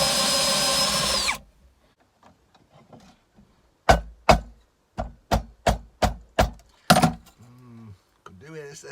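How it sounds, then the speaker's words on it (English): Power drill twisting stripped cable, heard as a burst of steady whirring at the start, then a run of short, sharp, evenly spaced pulses as the trigger is pressed repeatedly. "stick my end in my drill, press the trigger"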